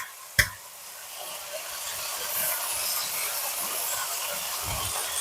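Onions dropped onto browning meat in a pan for Persian rhubarb stew: a single clack, then a swelling, steady hot sizzle that holds close and loud.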